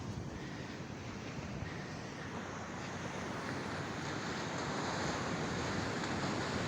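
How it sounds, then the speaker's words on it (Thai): Strong morning surf at Surin Beach in Phuket roars steadily, a continuous broadband wash of breaking waves with wind noise across the microphone and no voices. "เช้านี้ก็คลื่นค่อนข้างแรงนะครับ"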